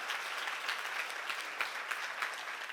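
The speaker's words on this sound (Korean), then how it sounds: "지금 박수야" Audience at a church seminar claps steadily, a dense sustained round of applause filling the room with no speech over it.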